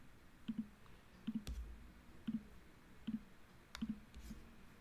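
Faint mouse clicks, mostly quick double clicks at a steady pace, roughly five pairs, made while clicking navigation bar items to edit a Showit website homepage.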